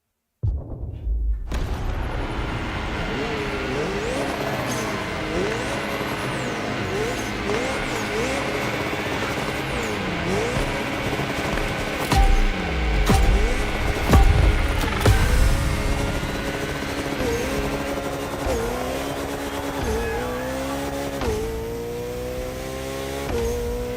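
Koenigsegg Jesko in The Crew Motorfest racing game, a steady loud engine drone with rising and falling rev sweeps and gear changes, growing louder mid-clip, with no talk over it.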